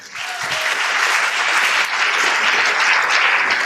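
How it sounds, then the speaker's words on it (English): A school audience at Mont'Kiara International School breaks into dense, sustained applause welcoming a guest speaker, steady and loud from start to finish with no talking. "let's have another round of applause and welcome for Mr. Morgan"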